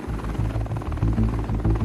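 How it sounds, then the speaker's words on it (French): Helicopter rotor thumping in a steady rhythmic beat with engine drone, loud and close, no voices. "on voit Raël dans un hélicoptère"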